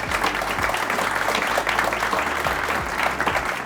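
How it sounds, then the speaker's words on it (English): An audience claps together in steady, dense applause at a live podcast recording, continuous and fairly close for a few seconds with no talk. "round of applause"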